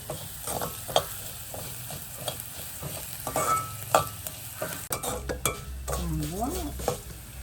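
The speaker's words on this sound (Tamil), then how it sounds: "மல்லி முருகிது நல்ல வாசமாக இருக்குது." Coriander and ivy gourd leaves fry in a pan for a quick sambal, with steady sizzling, scraping stirs and a few clinks of a utensil against the pan; a voice murmurs briefly near the end.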